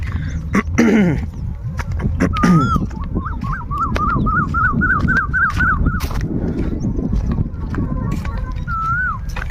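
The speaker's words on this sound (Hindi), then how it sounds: "यहाँ कोयल, पक्षी, चिड़ियाओं की आवाज़ सुनाई देती है" Birds, including a koel, call repeatedly over a noisy outdoor background, including a run of rising whistled notes and scattered sharp chirps.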